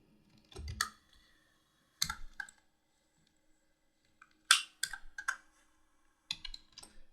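Short bursts of clicky keystrokes on a computer keyboard while HTML code is typed, arriving in separated clusters with quiet gaps between, close and crisp, no voice present.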